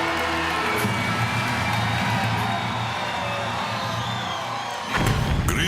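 A large arena crowd at a medieval dinner tournament cheers for the knights, a dense, steady roar of voices and shouts filling the space for several seconds before a fresh burst of cheering near the end.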